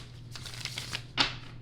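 Tarot cards are shuffled in a quick run of soft, crisp rustling and ticking bursts, followed by one sharper riffle snap near the end, with no talking.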